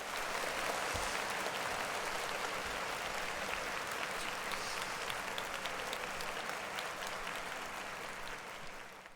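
Steady applause from a crowd at a live hip-hop event, dense clapping sustained throughout and easing off slightly near the end, no voices over it.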